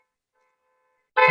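A single car horn sounds in a sudden loud burst at the end, played as a distractor during a cognitive test, after about a second of silence.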